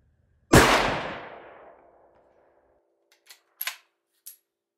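One loud rifle shot at a precision rifle practice session, fired with free recoil, cracks close by and rolls off in a long fading echo, followed by a few faint mechanical clicks and taps.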